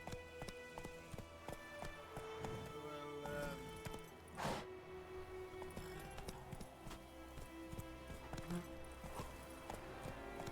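Hooves of Roach, Geralt's horse in The Witcher 3, clip-clop steadily through a busy game soundscape with music and ambient layers, with a brief louder burst midway and no talk over the hoofbeats.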